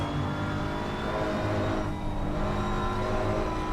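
A Porsche 911 GT3 R race car's flat-six engine in Assetto Corsa Competizione, GT3 racing at the Nürburgring, drones steadily at high revs throughout with a constant, dense roar and no talk.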